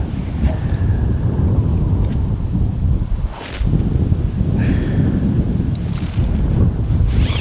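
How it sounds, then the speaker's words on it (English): Steady wind buffets the microphone outdoors at a fishing lake, a continuous low rumble with gusts rising and falling throughout, no voices. "it's just too windy"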